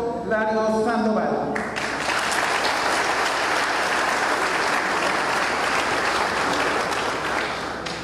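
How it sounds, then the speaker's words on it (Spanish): Strong, sustained applause fills the room at a solemn council session, a dense wash of clapping from a large audience that follows a brief spoken announcement at the start. "Y fuerte el aplauso también para Candelario Larios Sandoval."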